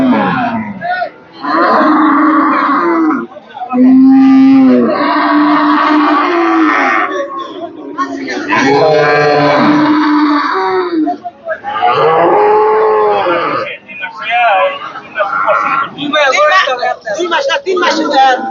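Cows at a cattle market low again and again, loud and close, each drawn-out moo rising and falling with short gaps between the calls.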